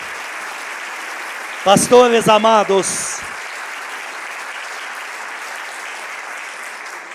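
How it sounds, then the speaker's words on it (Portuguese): Church congregation applauding during a communion service, a steady wash of clapping under a voice, which rises into a few loud, rhythmic speech bursts and then fades back to the continuous applause. "Dá um aplauso para Jesus"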